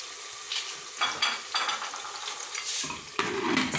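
Potato chips frying in oil in a covered cocotte pot, a steady loud crackling hiss with stirring scrapes and pot clatter, rising and falling through the stretch with no voices.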